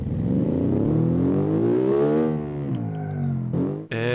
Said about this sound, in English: we got a really big cam in this boxer engine, and my goodness, it sounds good.